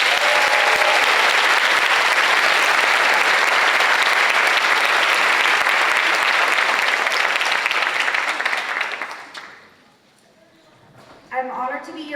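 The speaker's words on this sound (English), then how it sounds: "Please give them a round of applause." Audience at a hospital ceremony honoring patient care assistants breaks into loud, sustained applause, dense clapping for about nine seconds before fading out; a voice then begins speaking near the end.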